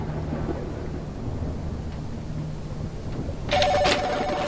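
Landline telephone in the game Mirror Forge, a short burst of electronic ringing that starts near the end over a low rumbling ambient background, with no talk.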